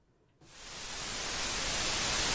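The noise source of an Arturia PolyBrute analog synthesizer switches on abruptly after a brief quiet moment, producing a steady, broad hiss that swells slightly louder and brighter as it holds.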